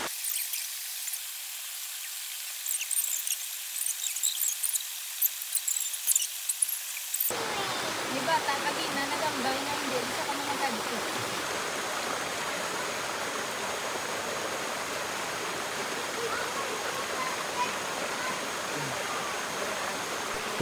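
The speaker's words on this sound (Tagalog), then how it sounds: "Enjoy na muna natin yung sound ng waterfalls." A waterfall at Don Salvador Benedicto in Negros Occidental roars as a steady, dense rush of water. It starts suddenly after several quiet seconds and then holds loud and unbroken to the end.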